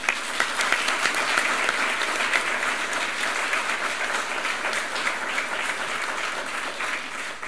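An audience at an induction ceremony applauds steadily for several seconds, a dense, even wash of clapping with no talking.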